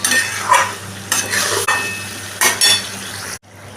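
Pointed gourd stir-fried with a spicy masala paste, heard as short bursts of sizzling and spatula scraping with metallic clinks against the pan, close and fairly loud, ending in an abrupt stop.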